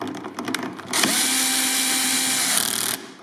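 A power tool with a long socket and extension tightens a fastener while a seat box is installed on a Hawk electric scooter, a loud, steady whirring buzz lasting about two seconds after brief handling clatter, close up.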